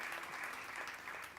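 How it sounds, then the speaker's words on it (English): Brief burst of audience applause at an International Women's Day bell-ringing event for gender equality, steady dense clapping, fairly quiet and distant, lasting just over a second. "Please, let's give her a round of applause once again."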